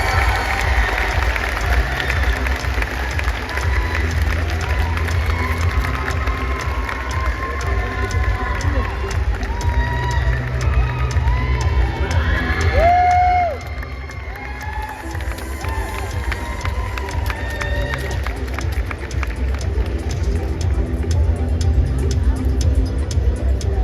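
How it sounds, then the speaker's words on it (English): A large arena crowd at a robotics competition opening ceremony applauds and cheers over a steady din of background music and hall noise, with scattered shouts, loud and continuous throughout. "giving a huge round of applause for"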